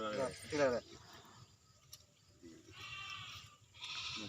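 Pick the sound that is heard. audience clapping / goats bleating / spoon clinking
goats bleating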